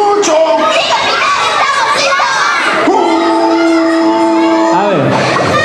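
A group of children at a birthday party shouting and yelling together in a loud, sustained burst of overlapping voices, with an adult voice cutting in above the noise.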